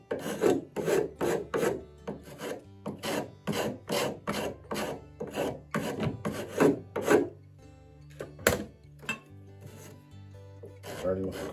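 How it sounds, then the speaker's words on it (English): A rasp files and smooths a saw cut in wood, giving a series of close, dry scraping strokes in a steady back-and-forth rhythm that slows and thins out toward the end. "Well-made rasp is a great way to finish and smooth this cut."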